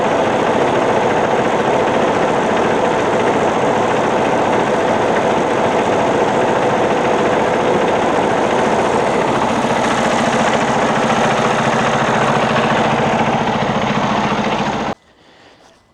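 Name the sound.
truck engine idling after oil and fuel filter change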